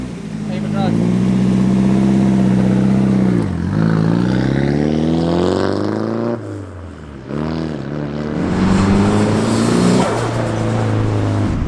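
A JDM car's engine revs close and loud, its pitch climbing and falling through several sweeps with a steady idle drone between them.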